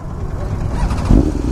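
A BMW S1000RR motorcycle fitted with a full Akrapovic exhaust system rumbles close by with a deep, loud engine note that swells slightly partway through. A voice is faintly heard under it.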